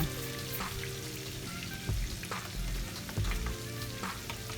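Fish marinated with turmeric frying in hot oil, a dense continuous crackling sizzle with scattered pops and a few low knocks of a utensil, no voices.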